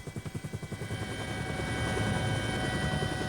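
Helicopter flown by forest police, a loud rhythmic rotor thumping that steadies into a continuous droning roar, close and alone with no talk.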